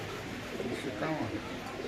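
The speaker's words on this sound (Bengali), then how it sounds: "পাকিস্তানি কামাগার কবুতর দেখতে পাচ্ছেন" Pakistani Kamagar pigeons coo softly in a cage at a bird sale, low rolling calls blending with nearby chatter and voices in a busy setting.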